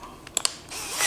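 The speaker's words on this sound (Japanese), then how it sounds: "チャックを締めるときにですね、手締めでもちゃんとこうロックがかかってくれます。" A few sharp mechanical clicks in quick succession as the chuck of a KIMO 20V drill driver ratchets and locks while hand-tightened, followed by a faint hiss.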